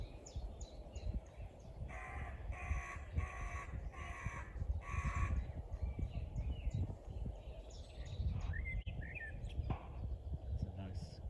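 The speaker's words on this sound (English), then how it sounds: "it sounds like there are two blackcaps," Several songbirds in a dawn chorus, with two blackcaps singing, one closer in front; repeated warbling phrases come in bursts over steady low background rumble, with other birds calling farther off.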